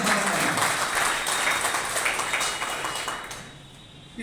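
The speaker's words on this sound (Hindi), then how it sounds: "एक बार अपने लिए जोरदार ताली के लिए आग्रह करूंगा" Applause from a gathered audience at a leaders' event, a dense sustained patter of many hands that gradually thins and fades near the end.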